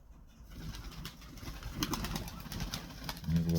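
Pigeons cooing in a coop: soft, low, rolling coos repeat near the microphone, along with light shuffling and faint wing movement, and no voices.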